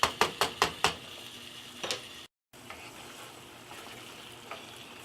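Ground meat for shepherd's pie browns in a pan with a steady close sizzle and fry, broken at first by a quick run of five sharp utensil scrapes and taps, then a couple more later, with no talking.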